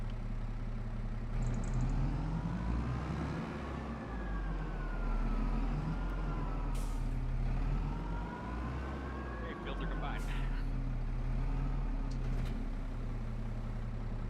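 Tractor engine in Farming Simulator 25 droning steadily throughout, a low rumbling hum with shifting tonal whine, with occasional brief sharp noises over it.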